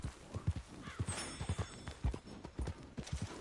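Horse hooves clip-clop in a steady uneven rhythm in Red Dead Redemption 2, close and fairly quiet, with faint game ambience and a brief high tone behind the footfalls.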